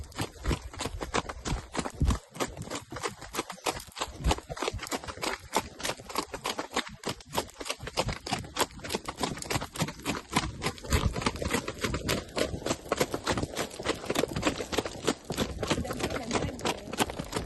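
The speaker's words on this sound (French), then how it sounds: "Hidalgo, il a cru qu'on partait au galop" A horse on a trail ride clip-clops steadily over ground, hoofbeats quickening as it speeds up, heard close amid wind and constant rustling noise.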